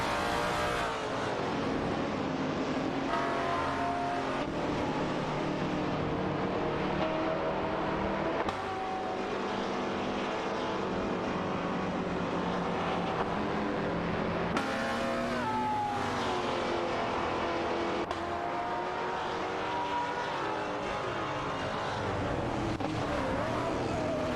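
Race cars in an AI-driven racing video game roar continuously, engines holding a high sustained drone with shifting pitch as cars accelerate and pass, loud and unbroken throughout with no talk.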